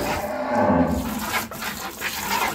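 A high-quality dairy cow on a farm lowing, a loud, close, drawn-out moo filling most of the short clip with a second shorter call toward the end, no talk over it.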